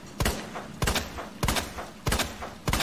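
Five loud, evenly spaced gunshots crack out about half a second apart, each a sharp close burst with a brief tail, with no talking between them.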